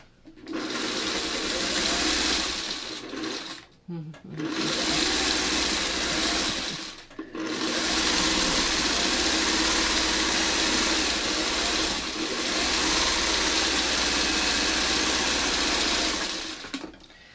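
A sewing machine stitches a long seam joining quilt pieces, a loud steady motor whir running in long stretches with two short pauses, close up and with no talking.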